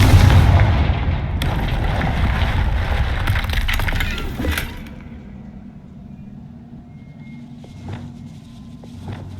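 Spell explosions from Bombarda and Confringo in the video game Hogwarts Legacy, a loud sustained rumbling blast for several seconds that fades to a quieter low ambience with a few faint later hits.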